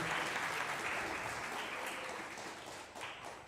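Audience applause at a World Robot Olympiad awards ceremony in Zimbabwe, with dense, steady clapping filling a hall and slowly easing off toward the end.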